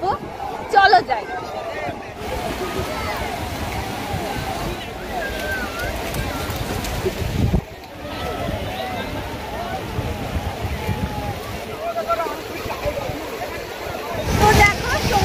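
Sea waves washing in at Bakkhali sea beach, a continuous surf wash with occasional louder surges, heard under a busy crowd of people talking nearby.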